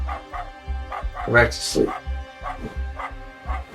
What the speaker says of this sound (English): he could end up barking all night too.